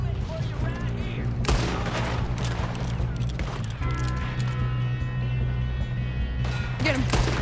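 Gunfire from the video game Red Dead Redemption 2 rattles in several loud shots and bursts over a constant low rumble of game sound, with someone talking over parts of it.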